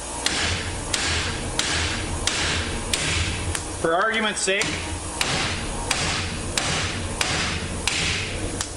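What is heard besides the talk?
hammer striking wheel studs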